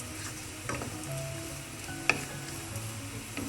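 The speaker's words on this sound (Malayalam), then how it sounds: "അത് ഇതിലോട്ട് നന്നായി ഒന്ന് ഇളക്കി കൊടുക്കാം" Brinjal and potato masala with rock salt being stirred in a pan, a steady soft sizzle with a few spoon scrapes and one sharp clink, no talking.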